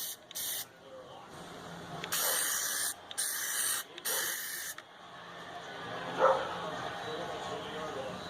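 Plasti Dip hisses from an aerosol can onto a 2017 Jeep Compass emblem in several short, loud bursts of varying length, separated by brief pauses, before quieter background sound, with a faint dog bark near the end.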